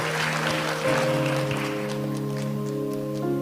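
A church congregation claps during a sermon, a broad wash of applause that is strongest at first and thins out over sustained keyboard chords that continue underneath.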